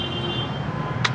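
Road traffic rumbles steadily with low engine drone and a faint high whine, a brief hiss near the end, no voices.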